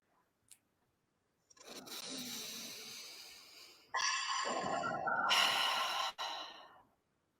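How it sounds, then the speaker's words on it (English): One slow, deep breath: a long airy inhale, then a short pause, then a fuller, louder exhale. Quiet surroundings, no talking. "So let's take a deep breath."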